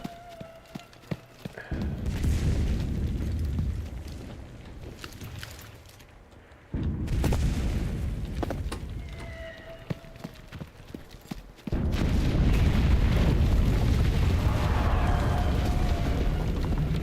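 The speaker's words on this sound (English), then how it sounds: "Artillery's over." An artillery barrage in the war game Enlisted rumbles as a heavy, continuous roar, with sharp impacts scattered through it. It surges louder in waves and stays loud toward the end.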